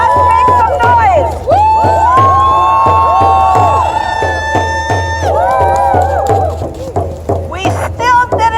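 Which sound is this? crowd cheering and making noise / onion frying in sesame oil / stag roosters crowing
crowd cheering and making noise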